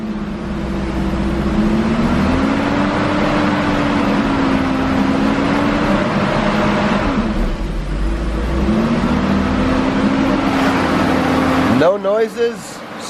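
A 1982 BMW 633CSi E24 rolls along with a steady mid-pitched engine hum under continuous road and cabin noise, its pitch rising and easing in smooth sweeps as the automatic gearbox shifts, ending with a brief burst of clatter.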